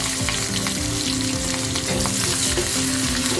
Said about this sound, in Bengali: আমি পেঁয়াজ মরিচগুলো দিয়ে দিলাম।